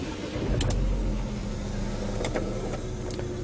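A Renault SM6 TCe 300 engine starts at the touch of a push button, giving a brief starter whir and catch before settling into a steady, close idle with no talking.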